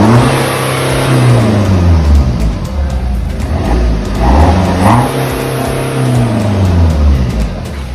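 A BMW F10 with a muffler-delete exhaust rumbles loudly up close after a cold start, its deep idle swelling in a few throttle blips and easing back down, with no talking.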